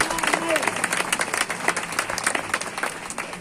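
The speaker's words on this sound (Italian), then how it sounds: "Che applauso!" Audience applause at a live comedy show, a dense patter of many hands clapping steadily and fairly close, with a voice briefly heard over it.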